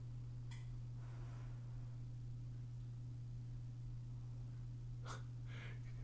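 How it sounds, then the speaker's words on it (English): A small monkey sleeps and snores softly at a vet's, giving a few faint, breathy snorts and exhalations spaced apart over a constant low electrical hum. "We'll give you a parting shot of the little sleeping monkey here. That's what he's doing. He's snoring."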